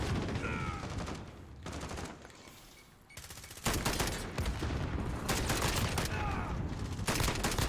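Rapid automatic gunfire in the video game Rust, dense bursts of shots cutting in and out with a short lull midway, loud and close, a voice faintly present underneath.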